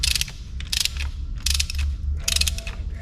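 Ratchet wrench working bolts on a 1957 Chevy Bel Air front suspension, short bursts of rapid clicking repeated four times in an uneven rhythm, close and crisp.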